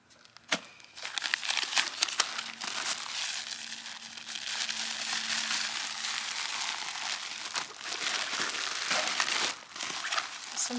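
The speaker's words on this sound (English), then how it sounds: "Listen to that crinkle." A Therm-a-rest Xlite sleeping pad crinkles and rustles almost without pause, a close, papery crackling that swells and fades as it shifts, with a sharp crunch near the start.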